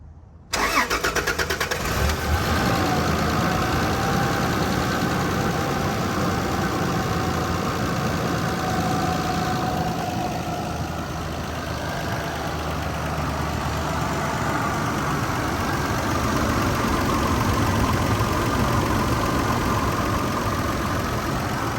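A 30-year-old 80 Series Toyota Land Cruiser engine turns over and settles into a steady, smooth idle, a continuous low rumble close by with no talking.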